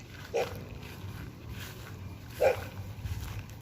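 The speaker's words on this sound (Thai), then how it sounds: "จะเห่าทำไม" A dog barks twice outdoors in the evening near a mowed grassy area, two short, fairly close yaps spaced about two seconds apart over quiet background noise.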